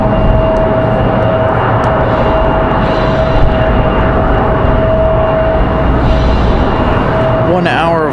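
Cessna Citation II private jet arriving at Raleigh-Durham on a windy day, a steady loud jet roar with a thin constant whine, voices briefly over it near the end.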